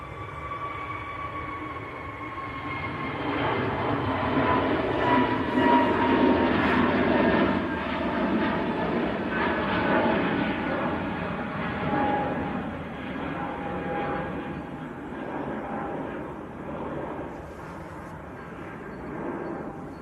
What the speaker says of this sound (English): This is EasyJet to Hurghada